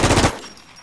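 Gunfire in a shooting video game: a quick burst of about four rapid, loud shots in the first third of a second, followed by a fading tail.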